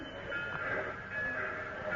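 Steady rumbling train noise with a sustained high metallic whine, continuous and fairly close throughout.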